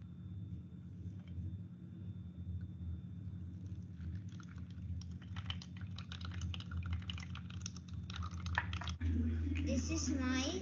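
Water drips through a homemade filter of cotton, sand, charcoal and rock as a run of small, quick ticking drops over a steady low hum, with a heavier rumble surging in near the end.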